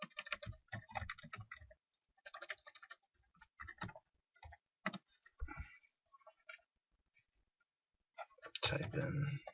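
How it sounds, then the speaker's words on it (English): Keys clatter on a computer keyboard as a name is entered into a search, short bursts of clicks in uneven runs with a pause before a louder final flurry. "Type in Joe Delvecchio"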